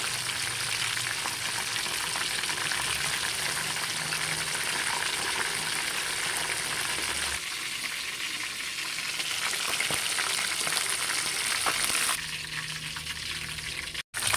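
Pakoy sizzling as it fries in hot oil, a dense continuous crackle and hiss held close for the whole stretch, with slight shifts in intensity and no talk.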